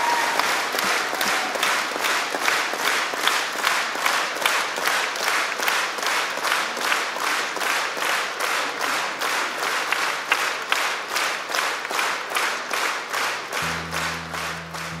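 A live concert audience in Chisinau applauds a composer with steady, dense, rhythmic clapping that fills the hall, loud and continuous throughout.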